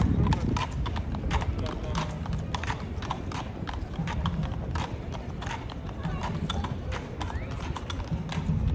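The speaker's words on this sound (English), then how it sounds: "Those gorgeous horses." Horses clip-clop steadily along a street in the Brooklyn Memorial Day parade, hooves ringing out in a dense, even rhythm close by, with crowd chatter and voices underneath.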